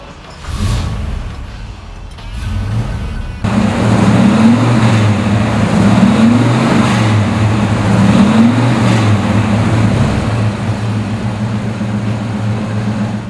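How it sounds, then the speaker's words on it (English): A Ford Mustang Mach 1 with a 351 V8 cranks, catches and settles into a loud, close idle, then revs up and down in several rhythmic blips, steady and alone with no talk. "How about I start it for you, and you can hear what that big 351 sounds like."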